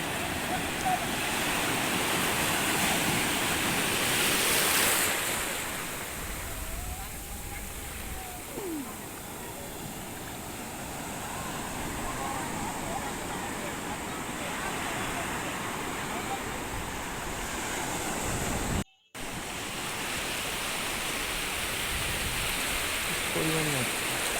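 Sea waves washing over rocks at Digha beach, a steady loud roar of surf throughout with a brief swell early on, under faint voices.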